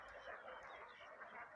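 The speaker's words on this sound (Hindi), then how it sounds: "मुर्गियों का, हंसों का, बत्तखों का ये झुंड कहाँ गया।" Chickens and ducks gathered at a farm pond cluck and chatter in a faint, continuous murmur of overlapping calls, heard at a distance without talk.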